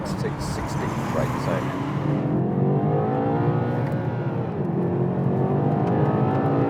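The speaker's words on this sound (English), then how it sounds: "let's have a listen to the engine for a moment" Twin-turbo BMW M8 Competition sports car engine at 625 metric horsepower, heard from inside while driving as a steady deep drone under loud road noise, with a brief higher whine early on.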